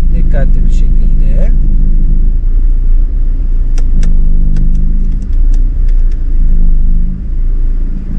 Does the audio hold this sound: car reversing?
yes